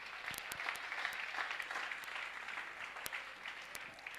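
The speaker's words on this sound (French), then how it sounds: "Tu as raison d'acclamer." Sustained applause and cheering from a church congregation, steady and fairly distant, with scattered sharper claps standing out and no talk over it.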